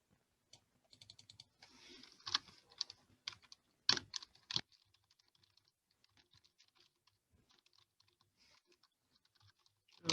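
Bursts of typing on a computer keyboard while a design is edited, with dense clattering keystrokes in the first half and sparser, fainter taps afterward, quiet room, no talking.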